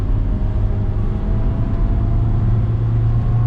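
A car engine, recently treated with turbo and engine cleaner, drones loud and steady while driving at near 60 mph, a deep low hum with faint harmonics continuing unbroken and without any talk.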